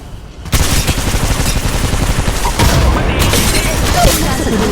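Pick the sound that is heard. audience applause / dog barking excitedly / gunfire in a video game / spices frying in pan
gunfire in a video game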